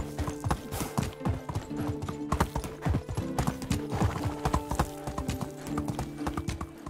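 Horse hooves clip-clop steadily in a video game, a brisk, continuous rhythmic trot of sharp knocks that lasts for several seconds.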